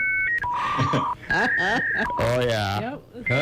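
A dial-up internet modem runs through its connecting sequence: dial tones, then a warbling handshake with sweeping chirps and a harsh screeching burst, loud and close, with brief voices reacting at the edges.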